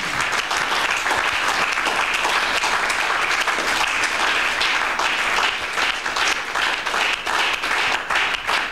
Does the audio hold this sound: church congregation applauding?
yes